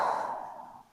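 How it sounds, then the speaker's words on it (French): A single long breath during a yoga breathing exercise, a soft airy rush close to the microphone that slowly fades out, with no talking. "On inspire"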